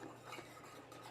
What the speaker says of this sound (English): we're going to put the flour mixture into the milk and whisk it